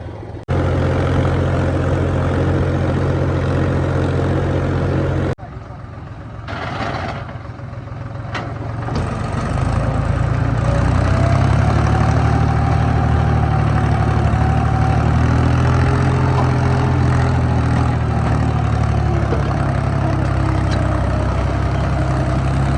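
A tractor engine idles loudly and close by on a farm during potato season. It makes a continuous deep, throbbing drone that dips briefly and then holds steady throughout.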